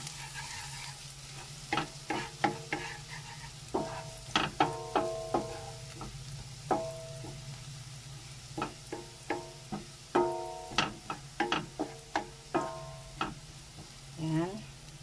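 Garlic sizzles softly in a pan under a steady frying hiss, punctuated by frequent sharp scrapes and clicks of a utensil stirring at an irregular rhythm.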